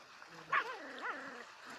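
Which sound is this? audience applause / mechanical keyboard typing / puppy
puppy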